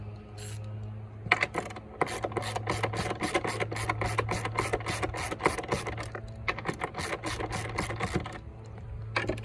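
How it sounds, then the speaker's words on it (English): Repeated scraping, ratcheting sounds of screws being tightened by hand on Kawasaki 1100 STX body parts, in uneven bursts over a steady low hum, close by. "Now let's put the last screw in, and let's snug these down"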